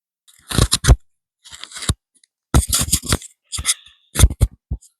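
A corn tortilla cheese quesadilla being cut, with five or six crisp, crunchy cutting bursts separated by short pauses, close and fairly loud with no talking.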